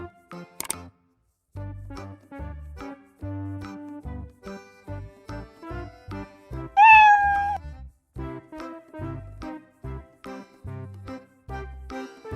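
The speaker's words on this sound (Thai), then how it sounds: "ส่งเสียงร้องเหมียว ซึ่งเป็นการทำงานตามสคริปที่ครูได้ร่างบล็อกมาวางไว้นั่นเอง" A cat meow played by a Scratch program script, a single rising-then-falling meow heard mid-way through a stretch of choppy, intermittent computer-generated sounds and clicks.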